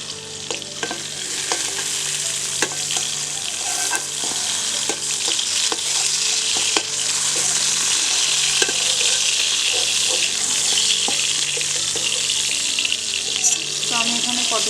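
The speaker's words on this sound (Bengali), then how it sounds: "তো আমি এখানে পটলগুলো একদম লাল লাল করে ভেজে নিয়েছি" Pointed gourd fries in hot oil with a loud, continuous sizzle punctuated by spatula taps and scrapes against the pan, the hiss building steadily over the stretch; no talking.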